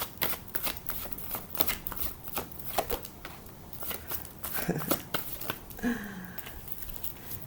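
Tarot cards being shuffled in quick, crisp riffles and slaps, close and fairly steady, with a faint voice briefly in the background.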